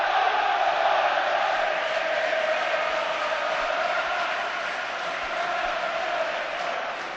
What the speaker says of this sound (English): The crowd suddenly comes to life as Tebily looks for Heskey.